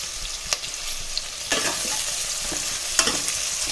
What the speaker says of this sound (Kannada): ಈರುಳ್ಳಿನ ಸ್ವಲ್ಪ ಫ್ರೈ ಮಾಡ್ಕೊಳ್ಳೋಣ.